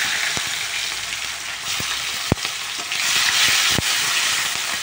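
Tomato and green chili frying in hot oil with cumin, a steady close sizzle broken by a few sharp clicks from stirring in the pan, with no talking.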